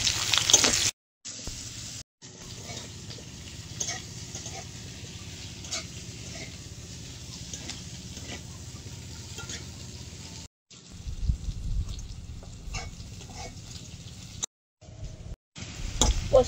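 Potatoes and torn green chillies are sautéed with lightly fried onion in a pan over a clay stove, giving a low continuous sizzle with occasional stirring scrapes. Brief gaps break the sound, and louder stirring comes in near the end.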